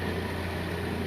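A steady, droning ice cream maker motor hum runs continuously with a constant tone and no change in pitch or volume.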